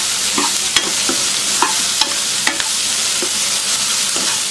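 Cut okra stir-fried in a hot pan for a pachadi side dish: a steady, close sizzle broken by regular scraping strokes as the pieces are tossed, with no voices.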